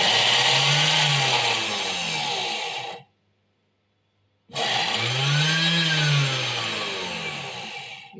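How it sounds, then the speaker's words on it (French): Food processor chopping onions and parsley in two loud whirring bursts, each rising and falling in pitch, separated by a second or so of silence. "Et je mixe."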